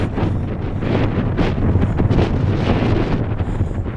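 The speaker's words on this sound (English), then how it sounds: "Wind's blowing hard" Strong wind roars steadily across the microphone on a country walk on the Malham Tarn Estate in the Yorkshire Dales, a loud, continuous buffeting rush with no voices.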